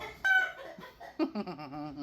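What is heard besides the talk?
roosters crowing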